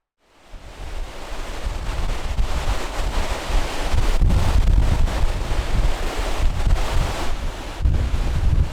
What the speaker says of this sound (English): Throughout the night, the wind had picked up and showed no signs of easing by the following morning.